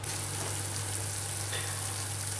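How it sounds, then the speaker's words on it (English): Steady, dense sizzling of marinated pork ribs fresh from a hot oven, a continuous crackly hiss with no talking. "So there we are, still sizzling, just out the oven"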